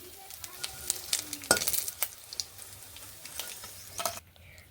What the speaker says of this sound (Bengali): এই পিঠ বেশ ভালোভাবেই এই পিঠু ভেজে নেব